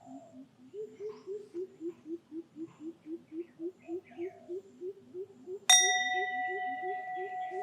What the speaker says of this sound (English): So, in or out, when did you hear the bell?